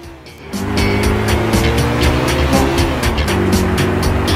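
Race cars in Grand Theft Auto IV roar close by with engines revving, and tires squeal under hard braking as a pack of cars sweeps past in a dense, continuous rush of engine and skid noise.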